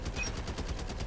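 Rapid automatic gunfire from a weapon in the mobile shooter game Call of Duty Mobile, a steady burst of evenly spaced shots, faint and muffled throughout.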